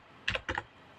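Two quick clicks of keys being struck on an external computer keyboard, crisp and close in a quiet room.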